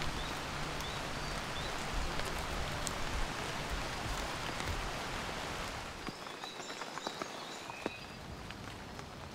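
Heavy tropical rain pours steadily through lemur forest, a dense continuous hiss with scattered drops and patters, easing slightly toward the end as sharper individual drips and faint calls emerge.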